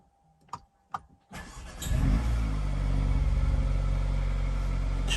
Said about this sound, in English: I will do a start on the car so you guys can hear what the car sounds like